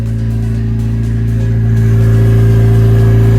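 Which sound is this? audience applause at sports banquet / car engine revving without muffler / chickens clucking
car engine revving without muffler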